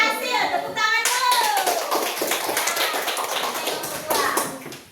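A class of children clapping together after a group's experiment, a dense burst of applause lasting several seconds, with children's voices mixed in.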